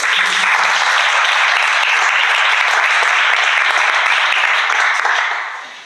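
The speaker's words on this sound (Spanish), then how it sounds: "un aplauso para Sergio." A crowd applauds with steady, dense clapping that holds for several seconds before fading out.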